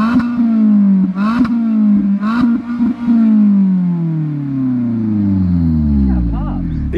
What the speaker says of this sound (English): this 2016 Mazda Miata has an aftermarket exhaust on it